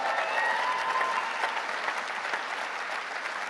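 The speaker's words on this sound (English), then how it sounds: "big cheer for Jackie" Applause and cheering fill a party conference hall in Liverpool, a dense, steady wash of clapping from a large crowd that holds at an even level throughout, with a few brief whistles and no speech on top.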